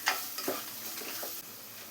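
Chopped onion and green chilies sizzle in hot oil in a pan while being stirred for papad samosa filling, with soft utensil scrapes and clinks over a steady close frying hiss.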